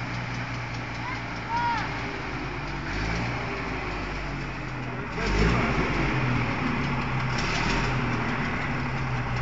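A White halftrack's engine runs with a steady, deep low rumble that rises slightly midway, close and continuous, with voices faintly mixed in.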